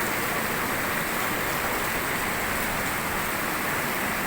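Heavy rain falls with water pouring steadily out of a downspout by some bushes, a dense, constant hiss and rush that stays loud and even throughout with no voices.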